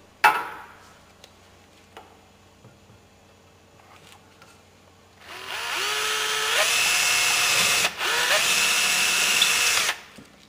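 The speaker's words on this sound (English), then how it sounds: "is to drill your pilot hole" Power drill boring a pilot hole into a surfboard for a fin plug: quiet handling clicks and taps at first, then the drill spins up loud and whining, holding a steady high grind for about five seconds with a brief dip midway.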